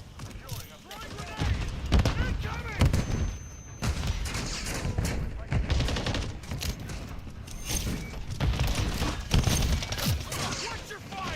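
Gunfire in a Call of Duty: Modern Warfare III multiplayer match, with repeated bursts and loud booming shots crowding a steady firefight while players talk over the noise.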